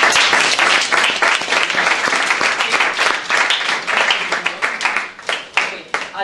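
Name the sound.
class applause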